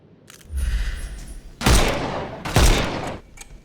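In Sherlock Holmes Chapter One, loud, close gunshots ring out: a softer thump, then two heavy booming reports about a second apart, each with a short echoing tail.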